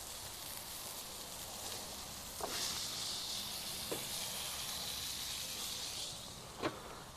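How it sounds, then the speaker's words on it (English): Steady sizzling hiss of burgers frying on a barbecue grill, quiet and continuous, with a few faint clicks and scrapes. "we've got burgers cooking on the barbecue"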